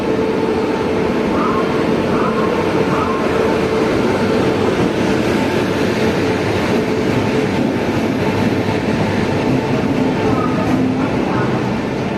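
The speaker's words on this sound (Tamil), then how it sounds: "இந்த பக்கம் இன்னொரு சூப்பர் ப்ரீமியம் ட்ரெயின் என்ட்ரி கொடுக்குறான்" A premium Vande Bharat express train pulls into a station platform at close range, a dense continuous roar with faint rail clatter and a few thin squeals, lasting throughout.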